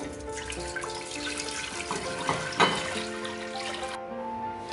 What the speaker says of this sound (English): To a pot, we are going to add in our water.